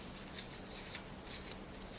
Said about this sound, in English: So I figured I'd just shuffle these a little bit and then pick a prompt from this stack.